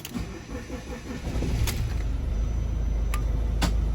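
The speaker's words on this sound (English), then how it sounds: "you can pull your step in when the vehicle's engine's running" A Carthago motorhome's electric entry step retracts while the engine runs, a mechanical whirr rising over a steady close engine idle, with a few sharp clicks near the end.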